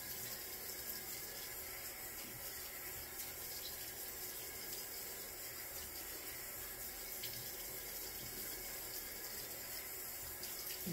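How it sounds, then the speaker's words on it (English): Tap water runs steadily into a sink, rinsing shaving cream off a head shaver or scalp, a constant close hiss of flowing water with no voices. "Excess shaving cream rinsed away."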